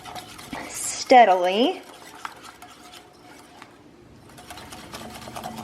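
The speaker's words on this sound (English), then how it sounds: "whisk like your life depends on it, because your aioli does depend on it" A whisk beats olive oil into garlic aioli in a bowl, making a steady, faint scraping and ticking. A brief voice speaks over it early on.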